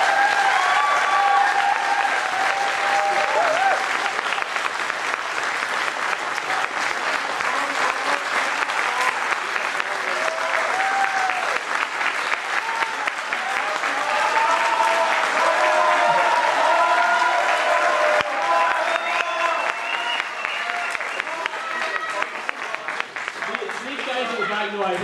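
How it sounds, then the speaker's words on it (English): A live audience applauds for performer Rick, a dense, steady wash of clapping sustained for a long stretch, with occasional voices faintly audible within it. "let's give Rick another round of applause"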